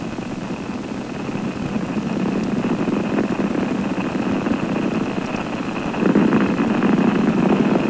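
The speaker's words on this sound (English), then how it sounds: "Engines are throttling back now, easing Columbia through the dense lower altitudes" Space Shuttle Columbia's main engines and boosters thunder during the STS-58 launch, a steady broad rumble with crackling texture that swells slightly louder toward the end, heard alone without voices.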